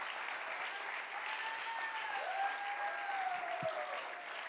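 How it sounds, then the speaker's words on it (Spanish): A church congregation applauding during a Spanish-language sermon, a sustained wash of clapping from many hands, fairly distant and even, with a faint high tone sliding underneath and a single soft knock near the end. "want you to give a lot of applause to Jesus with freedom"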